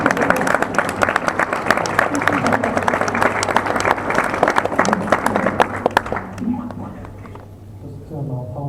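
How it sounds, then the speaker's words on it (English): A conference audience applauds on the VivaMK stage, dense clapping from a large crowd that continues strongly for about six seconds and then thins out, with voices murmuring as it dies away. "Big round of applause for Bamba."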